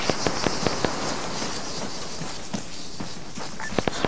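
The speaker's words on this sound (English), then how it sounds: "Spartan, shots fired" Gunshots in the Arma 3 military shooter game, a string of sharp cracks in uneven bursts, several fired quickly at the start and more near the end, heard over a constant noisy wind-like background.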